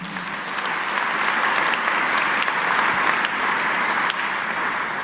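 A church congregation applauds together during a worship service, a dense, steady wash of clapping hands that fills the room for the whole stretch, loud and even with no voices above it.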